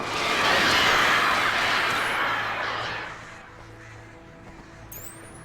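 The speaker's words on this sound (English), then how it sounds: "Damn birds, you win this time, Hitchcock." A flock of crows cawing loudly in Alan Wake, a dense harsh chorus that swells early and then thins to scattered calls against a low ambient hum.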